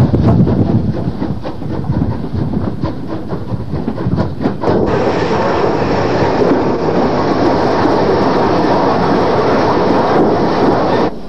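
A passing British steam locomotive rumbles steadily, with rhythmic chuffing at first that gives way to a continuous broad roar and rattle of carriages close by.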